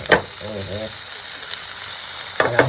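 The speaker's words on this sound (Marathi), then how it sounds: "भेंडी मसाला फ्राय काहीतरी करता भेंडी मसाला फ्राय" Okra masala fry sizzles steadily in a hot pan throughout, with brief stirring scrapes near the start and end and a person speaking briefly over it.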